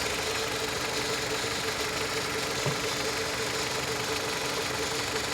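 A Honda Civic engine with a cracked air intake hose idles with a steady, even hum and faint hiss, close and continuous with no talk.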